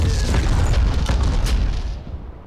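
A land mine in the PS2 shooter Black goes off in a loud, deep boom whose rumbling roar fills the moment and then fades away.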